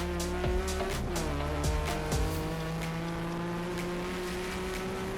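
A car accelerates hard down a race track's back straight, its engine note climbing steadily through the gears, with sharp quick shifts and a constant loud roar throughout.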